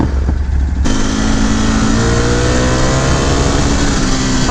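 A 2018 Ducati Scrambler 1100 Special's engine revs hard up toward its soft limiter, a loud close roar that climbs and holds at high pitch with a steady buzzing drone.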